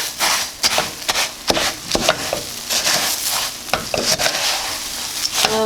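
Spoon stirring a sticky Fruity Pebbles cereal treat mixture in a pot, close crunchy scraping and rustling strokes in an uneven rhythm, with no voices.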